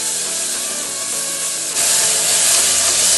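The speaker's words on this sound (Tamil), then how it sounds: "தக்காளி போட்டு நல்லா வதக்க ஆரம்பிச்சிடலாம்." Onion and tomato sautéing in a pan for nonbu kanji, a steady broad sizzle close up that grows louder and brighter partway through, with no talking.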